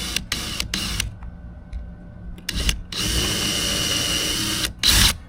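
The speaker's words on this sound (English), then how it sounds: "Now, I'm not going to drill all the way through because I don't want to go through my table" A power drill bores partway into wood for a DIY wall easel, several short loud bursts of motor whine separated by pauses, with one long sustained run near the end.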